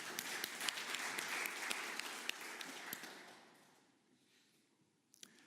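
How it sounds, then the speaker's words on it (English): An audience at a QEMU keynote gives applause for project contributors, with a few sharp individual claps standing out at first before the clapping thins and fades to near silence, then a brief final burst. "So, applause."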